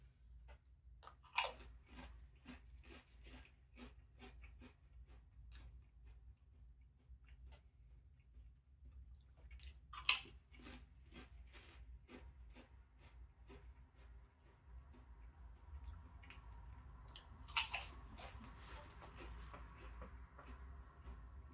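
Pringles Chili Cheese Fries crisps are eaten close up: sharp crunchy bites followed by repeated soft chewing, quiet and rhythmic, with a few louder snaps along the way.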